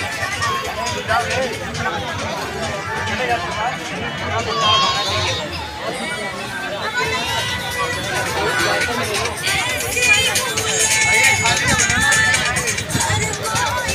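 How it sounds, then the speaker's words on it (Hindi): Busy crowd at Nauka Vihar boating lake in Gorakhpur, a dense outdoor babble of many overlapping voices and chatter, loud and steady throughout. "बहुत ज़्यादा भीड़ है नौका बिहार में"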